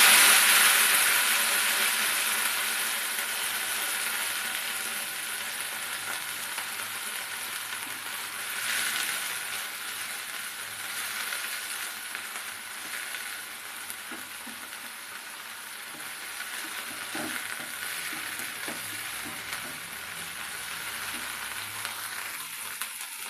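Coriander leaves fry in oil in a pan for a peanut and coriander chutney, making a steady, dense sizzle that runs throughout, close and fairly loud, slowly easing a little with faint stirring.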